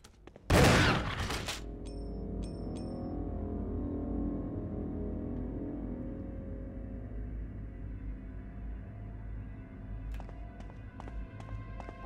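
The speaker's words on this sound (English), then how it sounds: "aim immediately and shoot this fucking thing with my shotgun" A shotgun firing in the survival-horror game Resident Evil gives one loud, close blast right at the start, followed by a low rumbling game ambience and a few faint metallic clicks near the end.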